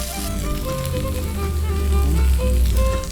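Garlic and half an onion frying in hot oil, giving a steady, close, crackling sizzle that holds throughout with no voices.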